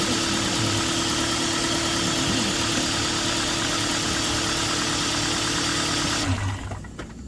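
A Hyundai Avante HD car engine idles steadily after a battery replacement, a loud, even mechanical hum with a constant low drone that drops off abruptly near the end.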